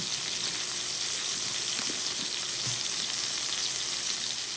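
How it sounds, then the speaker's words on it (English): Steak searing in a frying pan, seasoned with black pepper, gives off a steady, close, dense sizzle, with a couple of faint soft knocks partway through. "I'm going to turn it, and I'm going to kind of cook the side of the steak"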